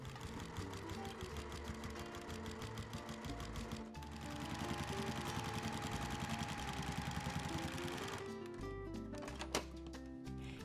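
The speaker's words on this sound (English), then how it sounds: "I'm also using a walking foot, which is going to help guide the fabric through the machine." A sewing machine fitted with a walking foot stitches a flannel rag quilt, its rapid steady mechanical chatter running in close bursts that speed up midway before slowing and stopping near the end.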